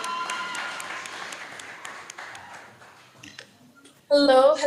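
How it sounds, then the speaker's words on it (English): Scattered clapping from a university debate audience, moderately loud and steady, fading slightly before a sudden louder burst of noise at the end. "Please give a round of applause for Sabrina Bryan."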